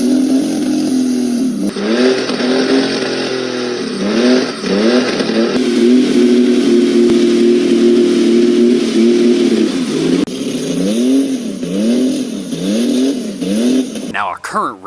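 A 3.8 liter supercharged Pontiac Fiero engine revs again and again nearby, its loud pitch sweeping up and falling back in quick bursts, with a steadier held stretch in the middle.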